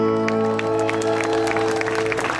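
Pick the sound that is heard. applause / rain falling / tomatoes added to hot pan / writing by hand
applause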